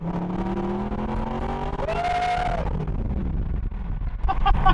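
A supercar accelerates hard on rough roads, its engine note climbing through the revs with a sharp shift and rising tone, loud and close.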